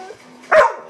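A dog gives a single sharp bark, close and loud, after a quiet moment.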